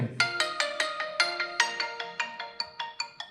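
A vivo V60 Lite phone playing its ringtone at 100% volume: a bright, close, repeating melody of short plucked chime notes in a steady bouncing rhythm, heard alone.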